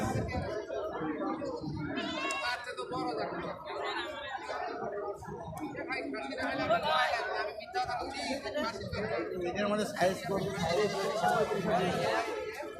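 Goats on a farm that keeps Totapuri-type breeding goats bleat repeatedly and close by in uneven bursts, overlapping with people talking nearby.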